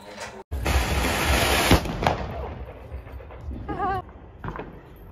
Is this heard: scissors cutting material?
no